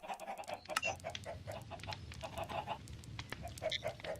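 Chickens in Minecraft cluck in short, repeated bursts, fairly close and clear against quiet game ambience, with no talking.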